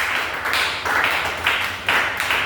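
A church congregation claps in steady rhythmic bursts, five or six loud swells of applause and cheering close by, filling the space with no other sound over it.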